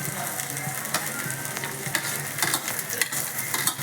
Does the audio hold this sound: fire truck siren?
no